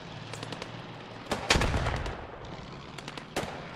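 Battle in a WWII video game set at Arnhem: bursts of gunfire and a heavy grenade blast ring out at mid distance, with scattered shots and crackling around them.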